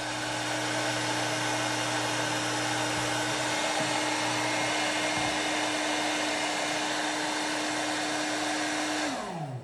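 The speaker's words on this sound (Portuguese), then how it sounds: "Se a gente passar o secador" A hair dryer blows steadily and loudly on a Barbie doll's head for nearly ten seconds, with a constant whine that shifts pitch and cuts off at the end as it is switched off.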